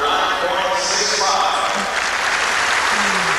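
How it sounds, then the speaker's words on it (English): A large arena crowd applauds a men's gymnastics performance at the 1989 Olympic Sports Festival, with loud, dense and continuous clapping throughout and a commentator speaking over it. "the crowd applauding the performance a moment ago of Tom Schlesinger"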